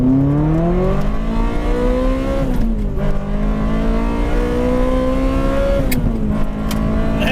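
A Ferrari pulls hard with ABS switched off, its engine note climbing loud and close through two sustained acceleration runs separated by a gear change, with a brief mechanical drop between them.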